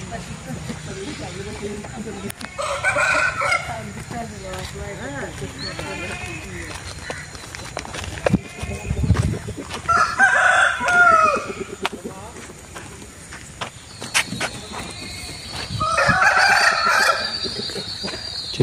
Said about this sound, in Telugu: ఇక్కడ కోడిపుంజులు అనేది టెక్కిరాయి, డేగ, నెమలి, అబ్రాసు ఇన్ని కోళ్ళు రకాలు ఉన్నాయండి.